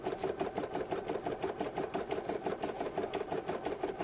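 An embroidery machine running a tack down stitch on organza wings, a close, fast and evenly pulsing mechanical chatter that continues steadily without talk.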